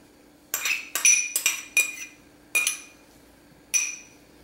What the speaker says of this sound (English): then just stir all of this together.